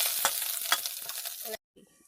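Mustard seeds and grated coconut hit hot white oil and fry with a loud, close sizzle and crackle, with stirring, before the sound cuts off abruptly.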